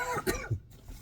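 A single short, quiet cough from a man straining his throat while imitating a guttural French accent, a brief rough burst with a slight throat-clearing quality and nothing else around it.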